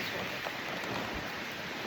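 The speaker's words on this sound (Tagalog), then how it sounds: "Ano na lakas ng ulan eh." A dense, steady roar of heavy rain pouring down, continuous and loud throughout, with no voices.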